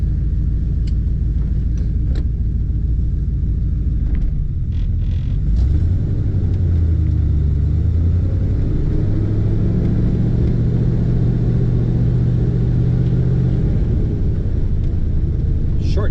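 A 1967 Chevrolet Corvette restomod with a fuel-injected L98 engine rumbles through side pipes, a loud, deep, steady idle with a brief rev near the middle, heard up close.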